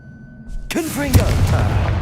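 The Confringo fire spell in Hogwarts Legacy goes off as a sudden loud blast after a brief lull, followed by a rumbling burst with crackling debris that fades out.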